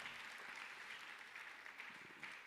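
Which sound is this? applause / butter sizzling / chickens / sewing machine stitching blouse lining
applause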